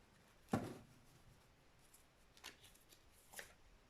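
Tarot cards being shuffled by hand, heard as a crisp riffle followed by two fainter papery flicks, soft and close in a quiet room.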